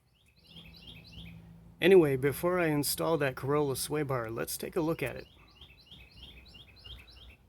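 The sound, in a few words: birds chirping in the background outdoors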